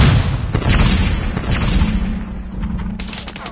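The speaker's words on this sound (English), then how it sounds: "Grenade!" A grenade explodes in a Call of Duty Mobile Search and Destroy match, a loud close boom rolling under ongoing gunfire, with sharp impacts near the start and the end.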